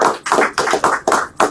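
A few hands clapping at a college press conference, five or six distinct, loud, close bursts in a quick uneven rhythm with short gaps between.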